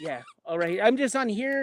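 A pet dog squeaks a squeaky toy in short, high, honking squeals that run under and between a person's talk, fairly close and steady.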